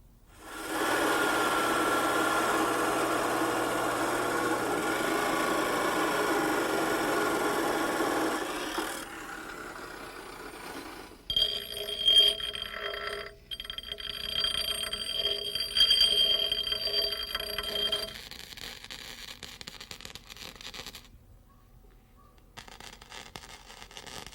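A 2-inch round steel pipe is welded onto the bottom of a table-top grill, giving a steady, loud buzzing crackle for several seconds, followed by quieter clanks, scrapes and faint ringing tones.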